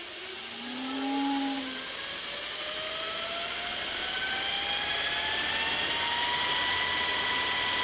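A Vevor 2x82 belt grinder runs at low speed as a steady motor hum, with whining tones that climb gradually in pitch, close and continuous.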